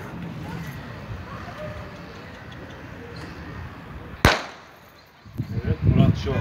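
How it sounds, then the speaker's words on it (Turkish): A firecracker banger set off outdoors to make pigeons fly: one sharp, loud bang that rings out and decays, followed by a flurry of wingbeats as birds take off, with people talking faintly before it. "Torpili patlattı kuşlar uçurmaya çalışıyor."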